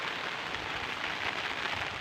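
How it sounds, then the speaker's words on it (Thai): Steady rain falls in a continuous, dense hiss on surfaces outdoors during a tropical storm in rural Thailand, even and moderately loud with no voices. "เนี่ยฝนก็ยังบ่เซาเลยพี่น้อง"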